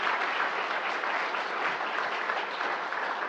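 An evening health-talk audience on prostate health applauds Dr. Robert Carlisle, producing a steady, full wash of clapping from many hands that holds evenly throughout without any voices.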